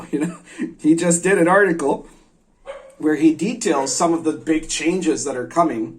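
A neighbor's dog barks in the background while someone talks steadily over it, the barking intermittent and partly masked by his voice.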